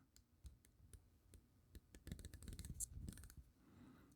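Bezel of a Christopher Ward C65 Super Compressor dive watch clicking as it is turned, a close, quiet run of small sharp ticks, sparse at first and then quicker and denser, with no voice over it.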